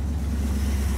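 Steady low idle of a Plymouth small block V8 with Pertronix electronic ignition, a smooth continuous rumble heard from close by, with no talking.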